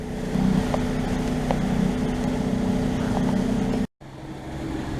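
A yacht motors past under engine power off the Cretan coast, a steady low droning hum with wind rushing over the microphone, holding constant before a brief dropout and resuming.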